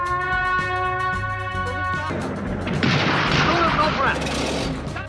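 Artillery and gunfire from an ambush battle near Wadi Al-Kuf against Italian fascist forces under Graziani rumble under a narrating voice, building into a dense, roaring barrage of blasts midway before easing.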